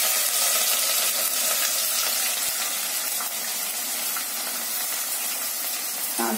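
Onions hit hot oil with whole spices while cooking masala paneer, producing a loud, continuous broadband sizzle and steamy hiss that holds steady throughout.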